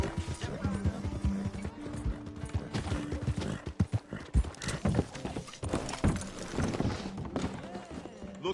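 Horse hooves clip-clop in Red Dead Redemption 2, an uneven run of hoofbeats with an occasional whinny, mixed under game dialogue and background sounds.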